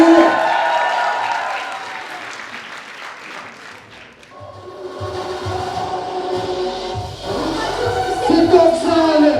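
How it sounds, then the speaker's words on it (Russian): Audience applause at a KVN student comedy league final at a university, clapping that fades and then swells again beneath music and stage sound, loud and close, with a crowd in a hall. "Бурными аплодисментами!"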